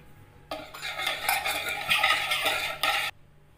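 A spoon stirs turmeric and black pepper into buttermilk in a bowl, giving close, quiet clinks and scraping swirls for about two and a half seconds, with no one talking.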